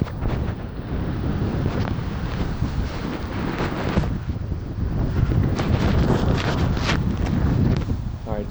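Strong wind buffets an uncovered phone microphone outdoors, a loud continuous roaring rumble with gusty surges throughout, close and steady with no voice.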